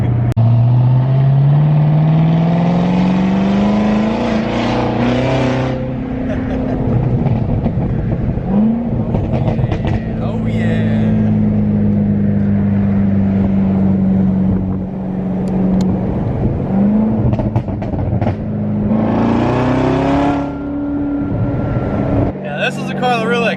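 A 2019 Corvette ZR1 with a Borla X-pipe exhaust roars and climbs in pitch as it accelerates, easing off and surging again, with a loud exhaust growl under someone talking.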